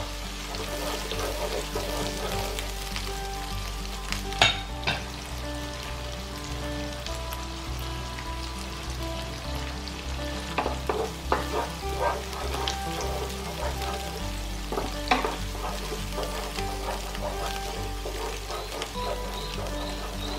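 Chopped tomatoes frying in a pan of hot oil while being stirred, giving a steady close sizzle with irregular crackles and scraping clicks throughout, with no voices.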